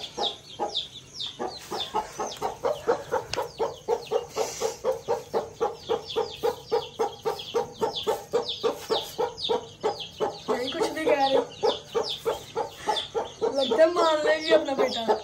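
A hen with chicks tucked beneath her in the dark clucks in a long, rapid, regular series of close calls, breaking near the end into louder, agitated squawking.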